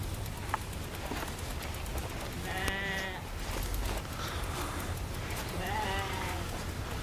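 Sheep held in enclosed pens bleat two or three times over a constant rough background, with faint voices in the distance.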